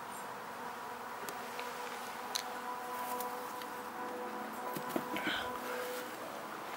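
Honeybees in an open hive of roughly 40,000 bees during a varroa treatment, a faint, steady droning hum with a few light ticks and knocks, no voices.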